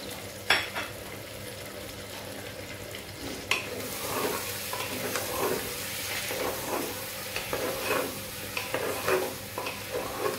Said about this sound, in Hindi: इसमें हल्दी नमक भी ऐड कर देंगे और इसको अच्छे से फ्राई कर लेंगे।